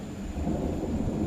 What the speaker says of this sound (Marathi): आता तुम्ही ऐकत असाल खूप गडगडा लागला आहे.